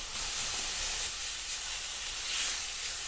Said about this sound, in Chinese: 然后把葱段倒入锅中，继续翻炒一下。